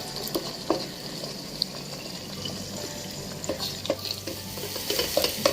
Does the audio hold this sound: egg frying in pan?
yes